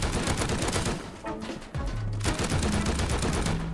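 An attack helicopter in the survival game Rust rakes the ground with bullets, dense rapid bursts of gunfire rattling loudly, broken by a brief lull before the shooting resumes.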